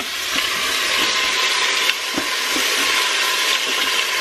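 Pork pieces sizzle and brown in a pot, a steady loud broadband fry with occasional soft stirring knocks and clinks, no voices.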